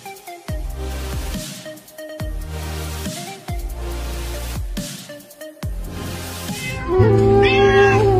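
A kitten meows over a steady rhythmic musical backing, its cries rising clearly near the end.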